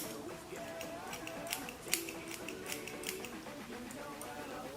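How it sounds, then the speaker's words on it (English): Quick, crisp snips of scissors cutting layers into a straight lace frontal wig, close up and steady, over a soft background hum with occasional faint voices. "and then I like just going in with my scissors upwards"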